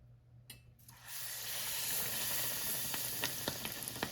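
Battered halloumi dropped into hot oil, an abrupt steady loud sizzle that starts after a second of near quiet and keeps hissing with small crackling pops.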